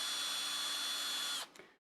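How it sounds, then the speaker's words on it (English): A power drill bores a hole during a model kit build, running as a steady, close, high-pitched whine for about a second and a half before cutting off and winding down to silence. "So if you're slightly off with a drill, it will drill a crooked hole."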